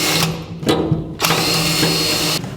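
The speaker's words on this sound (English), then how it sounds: "Now we'll drill it out with an 1/8 inch drill bit." A power drill with an 1/8 inch bit whirs in short bursts, drilling out spot welds on a 1949 Chevrolet, starting and stopping several times at close range, with a grinding mechanical edge.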